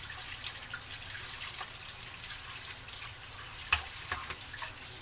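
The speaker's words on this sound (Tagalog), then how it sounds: "Hugasan natin ng tubig." Running tap water washes salted shrimp paste (alamang) in a strainer, a steady close stream with small splashes and drips throughout, no voices.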